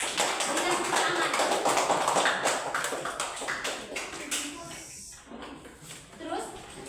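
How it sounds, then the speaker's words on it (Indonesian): Classroom students clapping for classmates during a science lesson, a quick run of claps that builds and then thins, with voices talking over it. "Berikan tepuk tangan."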